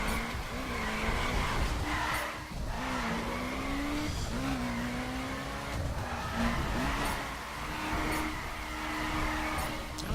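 Skidding tires and a steady engine drone from a Subaru BRZ drifting in the racing game The Crew, the squeal holding long sweeping tones through repeated slides, loud and continuous with no talk.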